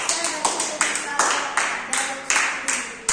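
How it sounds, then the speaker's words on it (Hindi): A school youth parliament audience in Delhi claps for a member of parliament. The sharp, rhythmic claps come in a regular beat of about three per second, close and fairly loud, and some chatter sits underneath. "एक बार जोरदार ताली होनी चाहिए दिल्ली के सांसद के लिए।"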